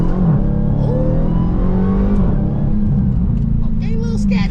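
A Dodge Hellcat's supercharged engine revs loud and steady throughout, its deep drone rising and falling in pitch, with music playing over it and someone talking at points.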